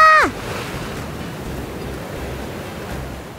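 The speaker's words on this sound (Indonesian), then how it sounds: "apakah Kak Uma mampu menerjang derasnya ombak pantai Garut Selatan?" Ocean waves at a beach in south Garut, Java, wash in as a steady, broad roar of surf with wind, continuous and fairly loud after a brief tonal blip at the very start.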